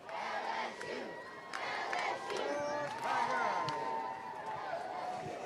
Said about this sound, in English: you can see them all cheering.